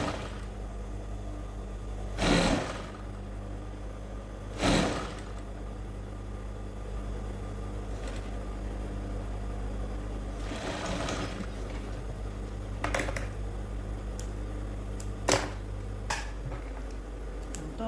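A sewing machine stitches an inside pocket in a quiet, steady low whir, broken by a few sharp clicks and knocks from handling the fabric and machine.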